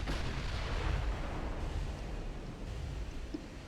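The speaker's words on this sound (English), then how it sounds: "I've just got my battleship just bombarding still, which is its only role in the battle" A battleship bombarding in the naval strategy game Ultimate Admiral Dreadnoughts, heard as a dense continuous rumble of distant artillery fire with no distinct individual shots, loud and steady throughout.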